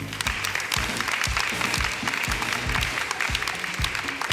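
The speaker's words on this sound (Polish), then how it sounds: "Zapraszam, oklaskajmy ich." A talent show audience applauds, dense continuous clapping from a crowd that holds steady and fairly loud throughout, with a few louder claps standing out and no talk.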